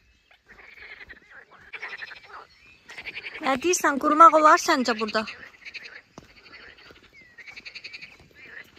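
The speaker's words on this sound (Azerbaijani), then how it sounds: "Qurbağaların səsi eşidilir yəqin ki." Frogs croak in a chorus from a dirty pond at a campsite, loudest through the middle stretch and steady behind people talking nearby.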